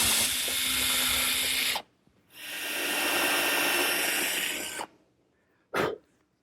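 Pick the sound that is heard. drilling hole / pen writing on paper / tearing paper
drilling hole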